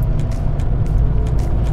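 Loud, continuous rumble of heavy trucks on a rainy mountain ghat road between Mumbai and Satara, a deep steady engine drone close by with faint road hiss above it and no talking.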